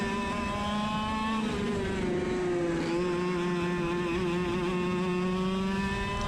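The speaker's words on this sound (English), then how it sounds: "you can hear the cart kind of bogging in these corners" A racing kart engine drones steadily on a new track during a main event race, its pitch dipping and wavering as it bogs down through the corners, loud and close throughout.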